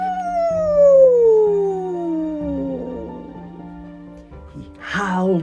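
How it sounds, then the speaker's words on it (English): A werewolf howls in a long, loud, drawn-out wail that slowly falls in pitch, followed by a shorter rising cry at the end, heard alone against a quiet background. "He howled as if he could rend the sky in two."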